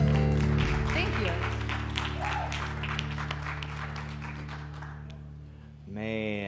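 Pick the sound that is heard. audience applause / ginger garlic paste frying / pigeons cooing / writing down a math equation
audience applause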